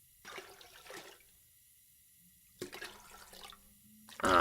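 Water from a toilet tank in The Long Dark, two short bursts of splashing, gurgling water separated by quiet, with a louder rush rising at the very end.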